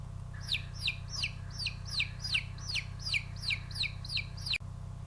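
A chick peeps in a quick, steady series of short, high chirps, about a dozen in a row, over a constant low hum.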